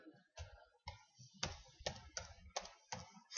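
Clicks of a computer keyboard being typed on, several quick separate keystrokes in a short uneven run, soft and close.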